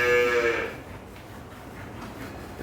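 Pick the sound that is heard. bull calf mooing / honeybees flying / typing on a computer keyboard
bull calf mooing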